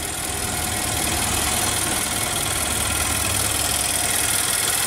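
Steady, even idle of a 2013 Infiniti QX56 with its 5.6 L V8, a continuous low hum with no revving or talk.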